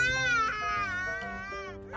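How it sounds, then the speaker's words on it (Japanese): A young child cries in high, wavering wails that rise and fall over two seconds, close and fairly loud, ending in a sharp sob. "なんで泣いてんの？"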